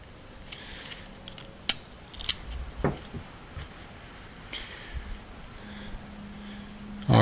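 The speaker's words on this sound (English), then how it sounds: "Get a pick, screwdriver, whatever you got. Pull your metal retaining ring out." Pick or screwdriver working a small metal retaining ring out of a fuel injector on a Ford 6.0L diesel, heard as sparse, faint metallic clicks and light scrapes up close in a quiet room.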